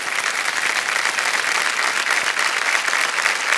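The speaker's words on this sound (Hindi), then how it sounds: "तालियां बजते रहे विमल जी के लिए" A studio audience on a Hindi game show claps for a returning contestant, Vimal Kambad: dense, steady, loud applause that holds evenly throughout with no voices over it.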